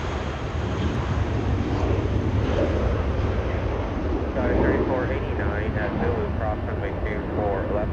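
Viva Aerobus airliner departing Los Angeles International Airport toward Guadalajara, a steady broadband jet roar under wind buffeting on the microphone, with a person talking over it throughout.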